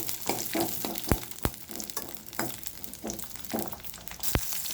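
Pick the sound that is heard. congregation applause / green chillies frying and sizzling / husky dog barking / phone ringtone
green chillies frying and sizzling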